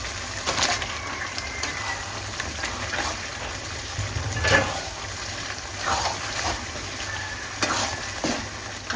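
Raw jackfruit pieces tumble into a pan of frying spices, sizzling steadily up close while a spoon stirs and scrapes with several louder clattering bursts.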